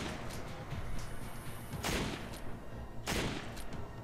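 Gunfire from the video game Resident Evil 5 comes as two sharp, loud blasts spaced about a second apart over a steady, dense game background.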